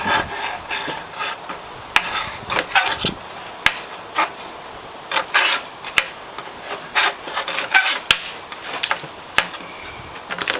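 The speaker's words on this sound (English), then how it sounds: "So peeling the garlic here, and we'll chop it up" Garlic cloves are peeled on a cutting board, giving close, irregular rubbing and crackling of papery skins with occasional sharp taps on the board.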